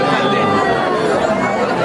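Dense crowd chatter fills a temple on the sixth day of Navratri, many overlapping voices forming a steady, close babble with no single speaker standing out.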